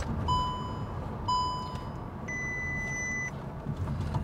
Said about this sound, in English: Now that beeping has happened a couple of times where it says take over the steering.